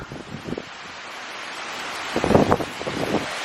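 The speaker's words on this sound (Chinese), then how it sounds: "突然一阵狂风刮过来，然后就下暴雨了，哇，好大风啊！" Strong wind gusts before a sudden rainstorm roar across the microphone, building into a louder blast midway before settling into steady rushing noise.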